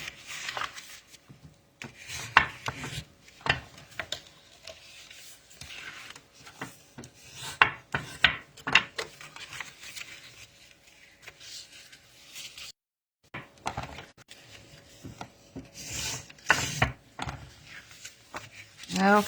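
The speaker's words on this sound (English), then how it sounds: "go through and give a good crease to these score lines" Score lines on cardstock for a window box card are creased by hand in quiet, intermittent rubbing and scraping strokes, close up with short pauses between passes.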